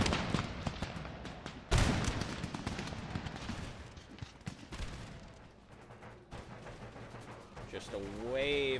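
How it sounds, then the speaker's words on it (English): Musket volleys from massed line infantry crash across an Empire Total War battlefield, a heavy rolling burst near the start followed by scattered overlapping shots and distant cannon booms, with someone talking over the din. "Just a wave of bullets coming down on them."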